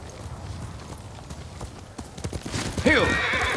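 Horse hooves clip-clop through rough ground in Ghost of Tsushima, building to a loud, close whinny near the end, with a voice speaking over part of it.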